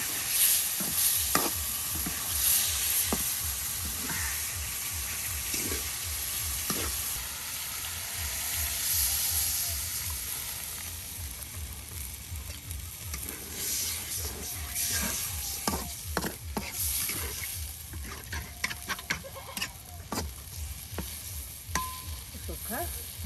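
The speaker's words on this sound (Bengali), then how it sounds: "এই দেখুন মশলার সাথে মাছগুলো এখন আপনার কষিয়ে নেওয়া হচ্ছে" Rohu fish pieces sautéed with ground spices in a pan, a steady sizzling hiss over a rhythmic low scraping from continuous stirring, with sharper clatters toward the end.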